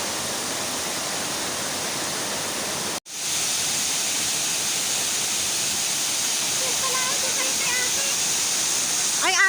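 Loud, steady roar of a waterfall at a swimming spot in Infanta, Quezon, a broadband rush running throughout with a brief cut near the start; faint voices and chatter rise under the water noise toward the end.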